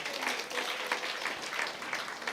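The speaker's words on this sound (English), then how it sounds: "Let's give them a big round of applause" A seminar audience at a BF SUMA products and selling skills talk claps for presenters, a moderate, somewhat distant patter of hands that stays fairly even.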